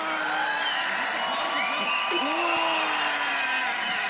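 A live crowd roars and whoops for beatboxer D-Lo at a beatboxing battle, a steady loud wall of cheering with shrill whistles and whoops riding over it throughout.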